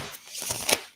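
A quick, soft riffle of a tarot card deck being shuffled, a single short burst of papery flutter up close, quiet and alone.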